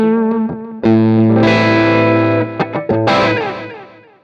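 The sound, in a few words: electric guitar with Axe-Fx II delay effect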